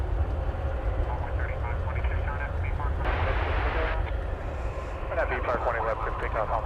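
A Spirit Airlines Airbus A320 arriving from New Orleans at DFW Airport rumbles with a continuous low engine roar at night, heard at a distance under a voice talking.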